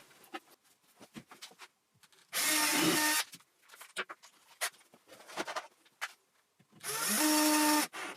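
A power drill whines in two short bursts, drilling a pilot hole then driving a 3.5 by 40mm screw, separated by light clicks and handling noises.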